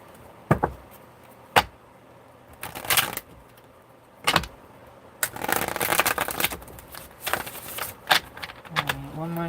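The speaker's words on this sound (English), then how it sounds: "one more shuffle" Tarot cards are shuffled in several quick riffling bursts, each a short crisp flutter, separated by brief pauses; a voice comes in faintly near the end.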